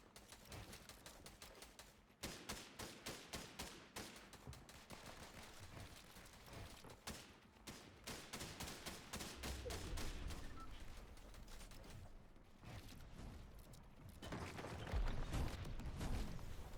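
Rapid gunfire in a competitive battle royale video game match, with dense bursts of automatic shots and scattered single cracks running almost continuously, fairly faint overall with some heavier blasts near the end.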